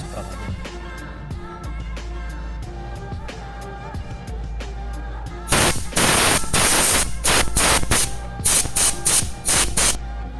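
Compressed air sprays in loud hissing bursts while cleaning inside an HP AM-125TX laptop, after a run of clicking taps, with intermittent blasts in the second half and no talking.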